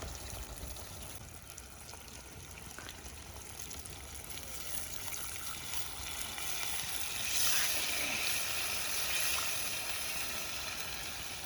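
Steady sizzling of fish pieces in a hot pan swells into a louder hiss as water is poured into the pot around the middle, then settles back to a bubbling simmer.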